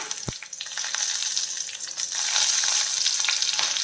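Dried red chillies and curry leaves frying in hot oil with fenugreek seeds and shallots, giving a steady close crackling sizzle that builds louder midway, with occasional stirring clicks and no talking.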